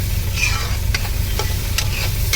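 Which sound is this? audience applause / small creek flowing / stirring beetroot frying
stirring beetroot frying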